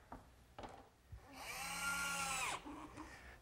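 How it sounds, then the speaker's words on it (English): Electric jigsaw cutting a slot in wood for a workbench: a loud, steady motor whine with blade rattle lasting about a second and a half, preceded and followed by a few light knocks. "my electric jigsaw sure makes quick work of finishing up that slot."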